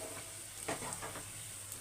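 Amla candy mixture cooks with ghee in a pan, a soft, continuous low sizzle broken by a few gentle stirring scrapes, faint and without talk.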